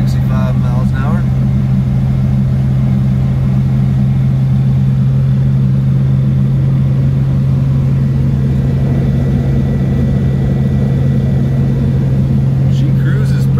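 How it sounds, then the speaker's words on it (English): Steady loud drone inside a 1949-54 Chevy coupe cruising at about 65 mph, dominated by a constant transmission and rear-end hum with road rumble, continuous and close, with someone talking over it. "The heat is on, but transmission in this thing is pretty loud"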